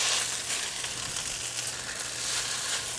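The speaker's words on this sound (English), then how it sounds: "fry the noodles very well until they warm up very much" Chow mein noodles frying in three tablespoons of canola oil in a pan, a dense continuous hiss of sizzling close by, fairly loud and even with faint stirring, no voices.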